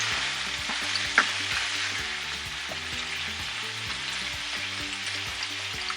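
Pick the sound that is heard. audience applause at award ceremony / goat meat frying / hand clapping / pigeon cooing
goat meat frying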